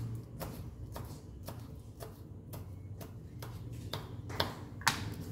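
Green chillies being finely chopped with a knife, giving a steady series of sharp knocks about twice a second, fairly close, over a low background hum, with the last few strikes a bit louder.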